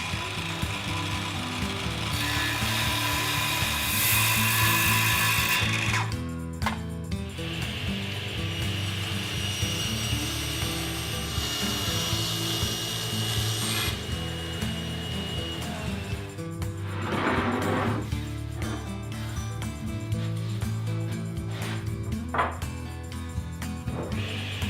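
A power tool cuts a wooden cabinet top to size in a workshop, a long steady whining drone with a brief pause and changes in pitch as the blade runs, loud and close, no talking.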